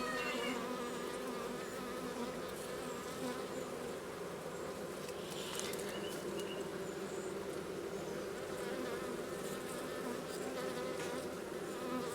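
A dense, steady hum of many honeybees buzzing close by at a hive, continuous and unbroken for the whole stretch with no voices.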